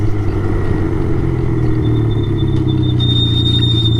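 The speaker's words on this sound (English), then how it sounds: "Oh, squeaky brakes." A car with squeaky brakes on a drive around Loleta: a steady engine and road rumble, with a thin, high brake squeal rising over it in the second half, close and continuous.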